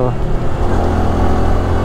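A Yamaha PG1 motorcycle pulls hard in second gear on a long ride, its engine droning loud and close with a rising, steady rumble under someone talking.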